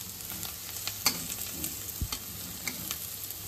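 Mixed vegetables frying in a pan for egg chowmein give a steady close sizzle, with occasional clinks and scrapes of stirring on top.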